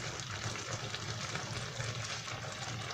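Remaining warm water, about 100 ml, is poured into a cooking pot of okpono and mushroom soup, a steady close liquid splash and trickle running the whole time with no talk over it.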